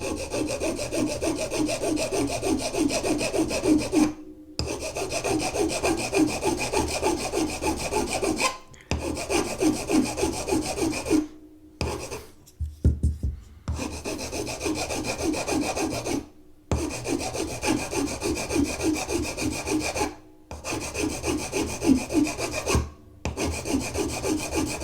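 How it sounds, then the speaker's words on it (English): A flat file works across the pivot pin of a vintage straight razor in steady rhythmic strokes, close and loud, in several long bursts separated by brief pauses. "So start filing, keeping the file flat, and you'll see the tape is worn away."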